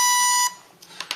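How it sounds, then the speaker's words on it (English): A steady electronic tone from a motor arming sounds for about half a second, then cuts off, followed by a few faint higher chirps. "That sound is the motor saying it's armed."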